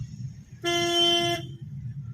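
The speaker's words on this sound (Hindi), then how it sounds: "इनको हॉर्न दे दो भैया को" A single sustained car horn honk during a driving lesson, loud and close, lasting under a second over low engine rumble.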